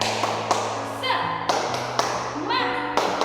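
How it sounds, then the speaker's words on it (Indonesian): An Indonesian primary-school class performs the tepuk semangat clapping chant: sharp, evenly spaced claps about twice a second, with children's voices chanting in rhythm between them. "Tepuk semangat."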